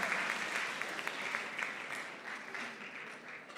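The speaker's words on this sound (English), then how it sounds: "Can we have a big round of applause for our Scholars Academy Color Guard?" A school assembly audience at Scholars' Academy gives a steady, dense round of applause for the student Color Guard, sustained evenly throughout at a moderate distance.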